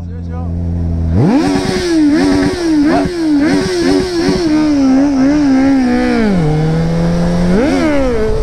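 A big motorcycle engine roars close and very loud. It jumps from idle into a high, wavering rev, holds with small rises and dips, then drops back and revs up again at the end.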